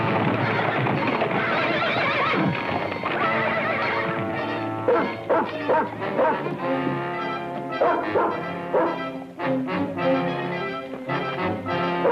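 A dog barks in loud bursts while horses neigh and whinny, with hoof clip-clop and dramatic music beneath, close and busy.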